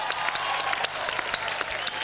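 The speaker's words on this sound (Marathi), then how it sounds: "एकदा टाळ्या वाजू द्या आमच्या भावतुल्ला खानसाठी" Studio audience at a televised Marathi talk show breaks into steady applause, a dense, even wash of many hands clapping close by, continuing throughout without pause.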